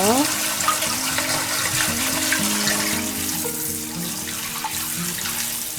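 Tap water runs steadily over aged kimchi as it is rinsed by hand in a kitchen sink, a continuous close splashing with small shifts as the leaves are shaken out.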